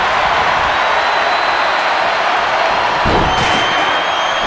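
A crowd in a WWE wrestling video game roars loudly and continuously as a dense wash of cheering, with a brief thud near the end.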